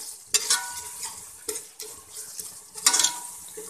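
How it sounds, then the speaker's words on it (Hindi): Ground masala spices with black pepper powder stirred and fried in a pot while cooking chicken feet, with scraping spoon strokes against metal at irregular intervals over a low steady sizzle, close and fairly quiet. "इस तरह से मसाले की भुनाई करेंगे थोड़ा। मसाला आपने अच्छी तरह से भूनना है"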